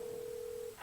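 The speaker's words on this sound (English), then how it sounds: "that's our phone. Our phone's ringing." A newly installed telephone in an auto repair shop rings once, a steady electronic tone lasting just under a second, fairly quiet against background hiss.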